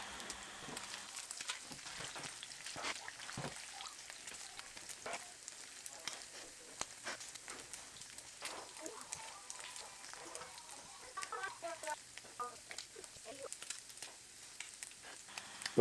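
Pork sizzles and crackles steadily in a pan on a stove over medium heat as its fat renders out, a faint, continuous hiss scattered with small pops.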